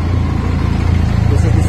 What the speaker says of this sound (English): clip on how the exhaust note is. So this is at idling RPM, must be 1500 or 1750 approximately.